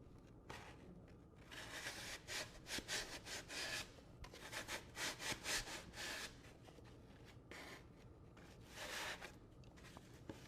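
Close, rhythmic rasping and sawing strokes from trimming the foam form for a custom-posed bobcat taxidermy mount, bursts of scraping broken by short pauses.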